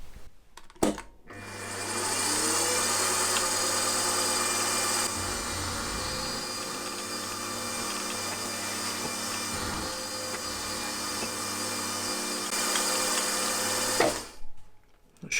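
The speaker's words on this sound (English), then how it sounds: "Now to put a small flat on this side for the grub screw in the pulley wheel." A machine tool runs steadily while cutting a small flat on a metal spindle for a grub screw, giving a close, continuous hum with a faint cutting texture that starts and stops abruptly at either end.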